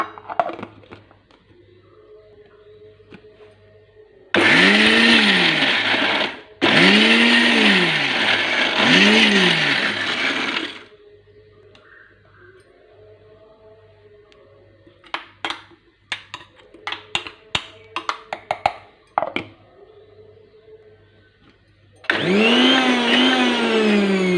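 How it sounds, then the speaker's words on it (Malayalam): A kitchen mixer grinder runs in several loud bursts as it grinds Palakkad-style shallot chutney, with short pulses near the end and quieter clatter between runs. "ഇനി നമുക്ക് ചമ്മന്തി അരച്ചെടുക്കാം."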